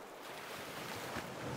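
Water ambience in the Pokémon Violet video game: a soft, steady wash of surf-like noise, faint and continuous with no voices.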